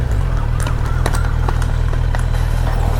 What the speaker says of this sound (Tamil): ஐயோ, குதிரை வண்டி பாருங்கள் என்ன வேலை செய்துட்டு.